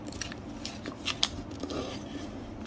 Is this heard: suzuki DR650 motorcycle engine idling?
no